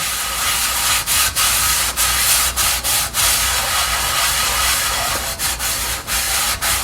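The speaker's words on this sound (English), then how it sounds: "But you can basically just get a little bit of soap and just wash it." A Cuisinel dual-handle cast iron skillet is scrubbed with a little soap, giving a loud, continuous close-up rubbing and scouring sound with brief rhythmic breaks, and no talking.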